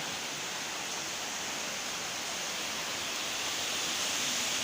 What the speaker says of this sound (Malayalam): നല്ല കിട്ടില്ല മഴ പെയ്യുന്നുണ്ട്.